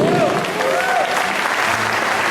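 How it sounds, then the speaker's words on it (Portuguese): A church congregation at a cell-group conference applauds together, a dense continuous wash of clapping with faint voices and a tonal sound woven through. "Você pode aplaudir o Senhor por isso?"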